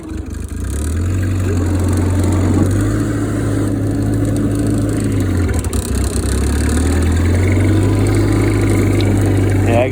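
Cub Lo Boy tractor engine working steadily under load while pushing dirt up a bank, a close, continuous chugging drone with slight rises in pitch; a voice speaks briefly over it.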